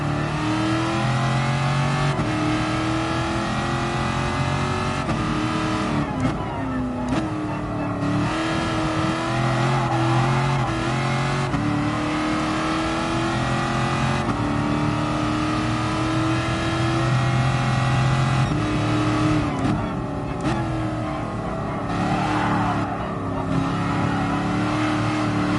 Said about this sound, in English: This car don't half make some noise.